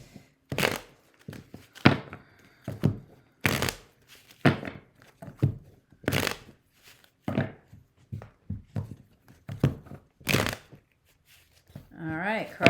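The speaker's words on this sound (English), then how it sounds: "Probably should shuffle these before I film." A deck of tarot cards is shuffled close up in repeated sharp riffling bursts with short pauses between them, and a voice speaks briefly at the end.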